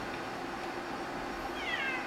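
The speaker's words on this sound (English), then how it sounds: "And the cat's coming right up here." A cat near a blocked-off window gives one faint, short meow late in the moment, heard over a steady hiss of room noise with no talking.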